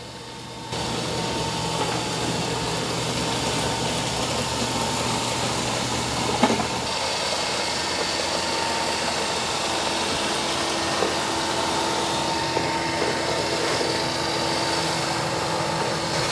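A Narwal Freo X Plus robot vacuum runs with a steady, close motor whir and brush drone as it works over a small patch of carpet, its tone shifting slightly partway through but continuing unbroken without any voices.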